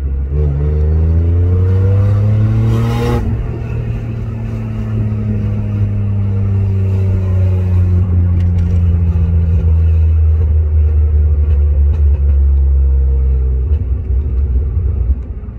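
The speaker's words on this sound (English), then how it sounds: "I just want you guys to hear the exhaust because it just sounds so good." A BMW E36 M3 convertible's exhaust burbles at idle, then revs up sharply and settles into a deep, loud rumble that rises and falls, heard close up.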